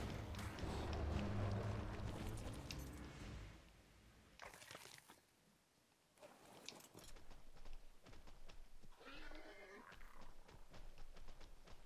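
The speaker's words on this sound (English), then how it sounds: "Yeah, there's horses on here, which are good." Horses in ARK whinnying loudly up close, with a shorter neigh later and soft chewing and hoof sounds between calls, all set against quiet game ambience.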